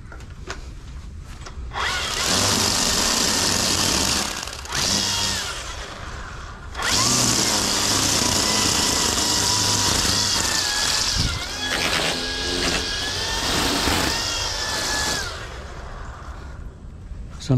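String trimmer cutting grass, its high, buzzy whine rising and dropping in several long bursts with short pauses between, close and loud.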